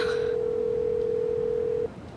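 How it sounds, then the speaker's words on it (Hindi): A steady electronic phone tone held for nearly two seconds, then cutting off abruptly, leaving faint background noise. "चलो मानूर, फोन उठाओ"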